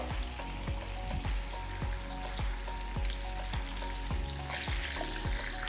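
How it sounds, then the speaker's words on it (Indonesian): Cabbage frying in a pan for kupat tahu Magelang, a constant oily sizzle with scattered crackles and light scraping stirs, close up with no talk. "Kita mulai menggoreng kolnya."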